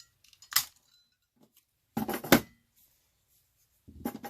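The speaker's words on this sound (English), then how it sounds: "I'm going to take my scissors and I'm going to take that little tip off there on either side." Scissors snip the corner tips off a repurposed file folder for a junk journal, giving a few separate crisp cuts spaced apart in a quiet room.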